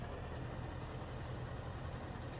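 Engine of a 2011 Ford F550 truck plowing snow in Farming Simulator 17, a quiet, steady low drone with constant broadband rumble throughout, no talking.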